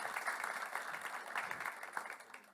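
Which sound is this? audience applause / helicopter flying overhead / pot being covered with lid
audience applause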